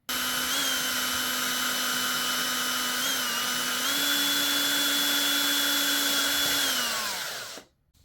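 A power drill widens a hole in a plexiglass cabinet door, whining at a steady high pitch for about seven seconds with a slight rise in speed partway through, then spinning down and stopping abruptly.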